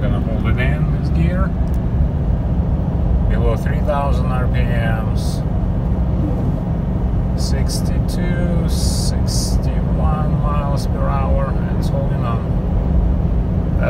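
Toyota Tundra engine pulling a 9,000 lb fifth-wheel trailer uphill while held in one gear below 3000 RPM, a steady, loud low drone that runs the whole time under someone talking.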